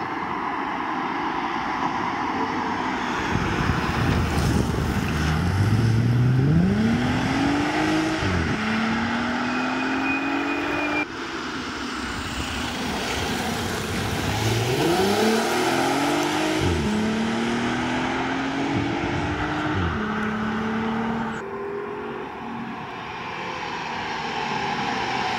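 A black VW Passat with a 3.2 engine drives and accelerates hard, its engine note rising through the gears in two long pulls, heard close from inside the car over steady road and wind noise.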